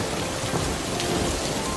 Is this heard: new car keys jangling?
no